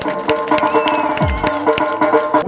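A large outdoor crowd claps and cheers for the winning driver at a village bullock-pair ploughing race, the applause dense and continuous with a loudspeaker voice and chatter mixed in.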